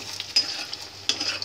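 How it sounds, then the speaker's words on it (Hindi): Cauliflower florets for Manchurian frying in hot oil, a steady soft sizzle with brief louder bursts of spitting and stirring, close and without talk. "तो गोभी हो रही है फ्राई"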